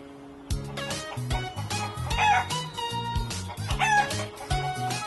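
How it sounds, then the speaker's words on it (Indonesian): A chicken crows loudly and close, with clucking and more crowing from fowl overlapping in a busy, layered farmyard chorus, no talk. "ayam adalah contoh hewan yang gak mengalami metamorfosis"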